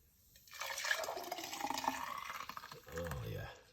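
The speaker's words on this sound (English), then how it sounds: "we're gonna pour it out into a cup" Homemade juice is poured into a cup, a brief close splashing trickle of liquid lasting a few seconds and fairly quiet.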